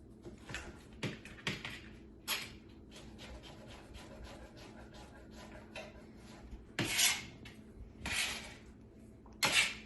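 A knife cuts zucchini pasta into little pieces for ramen, making irregular scraping and chopping strokes on a board, with some louder rasping bursts near the end.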